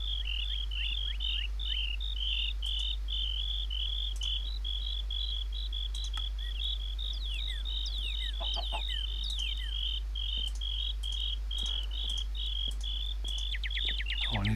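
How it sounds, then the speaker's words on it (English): Crickets chirp in a steady, dense pulsing chorus inside a modded Minecraft game, with faint tonal sweeps and a low constant hum beneath. "There's a family of crickets somewhere."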